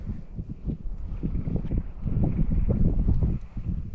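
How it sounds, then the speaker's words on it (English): Wind picking up over the water on a trout fishing outing, gusty low rumbling buffets against the microphone that swell and ease, loud and close, with no talk. "The wind is starting to pick up big time."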